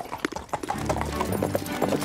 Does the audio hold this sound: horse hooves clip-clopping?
yes